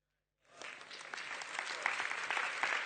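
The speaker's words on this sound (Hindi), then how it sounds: "आप किस बात के लिए ताली बजा रहे हैं?" Audience applause at a spiritual discourse begins abruptly from silence and swells into steady, dense clapping from a large seated crowd, sustained throughout.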